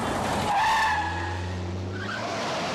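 A car pulls up and skids hard to a halt, a loud close tyre squeal with engine drone underneath that fades into a lower rumble as it stops, during a street confrontation in an action film.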